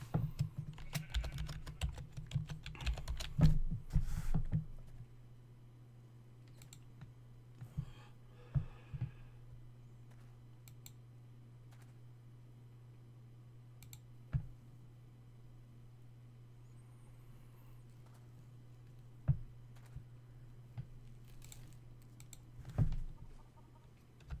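Keys clatter on a computer keyboard in quick bursts near the mic, with irregular pauses between the short runs of typing and a steady low hum underneath.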